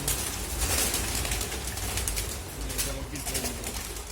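Pigeons coo softly amid a noisy, rumbling outdoor background, with occasional fluttering and murmuring voices nearby, under a bridge by a river.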